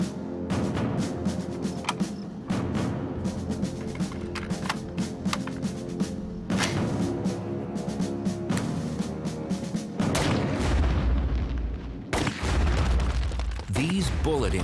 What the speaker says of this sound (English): These bullet impacts are comparable to the collisions in the asteroid belt.